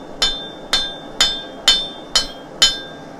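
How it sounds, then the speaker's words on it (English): A hammer strikes round steel stock on an anvil while forging a nail point: six loud, evenly spaced metallic blows ringing with a bright tone, each decaying quickly, with no talk. "we're going to come to the far side of the anvil and just hit a point"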